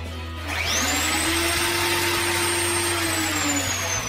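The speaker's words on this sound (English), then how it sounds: "Then you can turn on the router with the main safety switch." A woodworking router mounted in a router table is switched on: the motor spins up within half a second into a loud, steady high-pitched whine that runs on close and unbroken.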